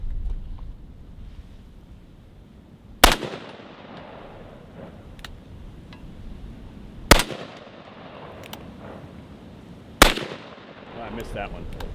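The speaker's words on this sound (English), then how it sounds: "I have never fired a 450 Marlin before." Three heavy, booming gunshots from a Magnum Research BFR revolver in .450 Marlin firing Hornady FTX loads, spaced several seconds apart outdoors, each a sharp loud crack with a rolling tail, with someone talking between shots.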